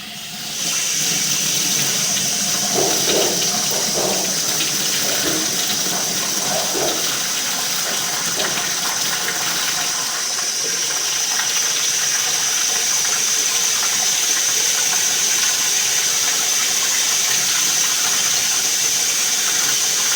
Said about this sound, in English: we're going to try to run some cold water now.